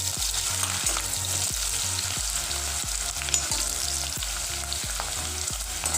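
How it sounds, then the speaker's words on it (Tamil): Onions and green chillies frying in oil in a pan for chicken dum biryani give a loud, steady sizzle, with regular scraping strokes of a stirring spoon beating an even rhythm throughout, no voices. "பச்சை மிளகாய் நல்லா பொரிஞ்சதுக்கப்புறம் வெங்காயம் போட்டுக்கிறேன்."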